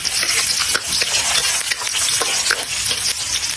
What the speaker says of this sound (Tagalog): So magigisa na tayo